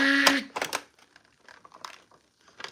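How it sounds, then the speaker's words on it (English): A short mechanical whir with clicking and clattering, like a small motorized part sliding open, followed by a few quieter ticks and clicks. "This is the sound of the Iron Man helmet, by the way."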